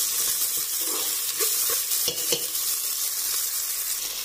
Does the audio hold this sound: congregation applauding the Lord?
no